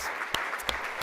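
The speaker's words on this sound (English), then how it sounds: "Let's applaud athletics, our students, our coaches," Audience applause at a university's State of the University address, honoring athletics, students and coaches, a brief steady patter of clapping with a few sharper claps standing out.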